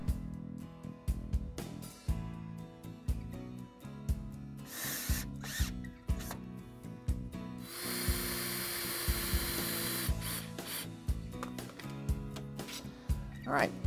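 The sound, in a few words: driving screws into 2x4 stretcher and apron joints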